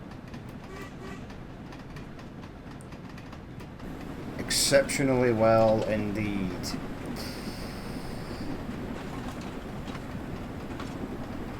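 A train in Train Sim World 2 rumbles along steadily under a winter wind, with a short rising horn-like tonal swell midway. Someone speaks briefly over it.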